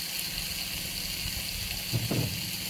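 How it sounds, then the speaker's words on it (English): A steady sizzle hisses continuously as chicken fries in a hot pan, with a couple of soft clunks near the end. "You hear the sizzling of the chicken over here."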